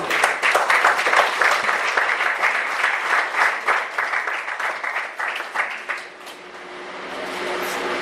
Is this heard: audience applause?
yes